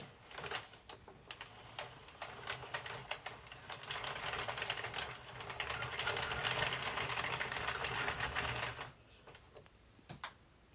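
An Addi King circular knitting machine is spun around by hand while a beanie is knitted. Its needles chatter in a dense, rapid clatter that builds steadily and then stops abruptly near the end, leaving only a few faint clicks.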